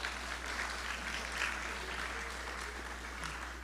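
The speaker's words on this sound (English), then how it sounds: "Give yourself a round of applause." Audience applause fills a student orientation session, a steady wash of many hands clapping at moderate distance, sustained evenly throughout without any talking.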